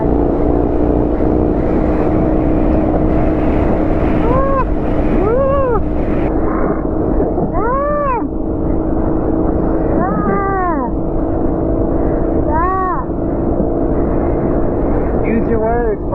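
Wind buffets a moving vehicle on a drive from Denver to Cortez, a loud, constant low roar of wind and road noise, with voices talking over it throughout.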